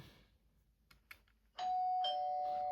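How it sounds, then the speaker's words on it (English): A doorbell rings with a bright, sustained two-tone chime that starts abruptly after quiet room noise with a couple of faint knocks, then rings on loudly to the end. "Time to ring this doorbell and have some fun"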